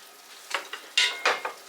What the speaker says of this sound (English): So I will stir this a little bit